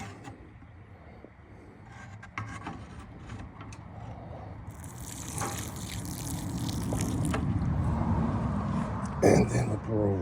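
Liquid bunny brew fertilizer poured onto a jostaberry plant, a trickling then gushing splash that builds steadily louder, while a person talks over it.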